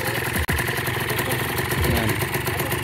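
Kawasaki KMX motorcycle fitted with a new carburetor idles close and loud, a steady rapid pulsing engine rhythm with a brief dropout near the start.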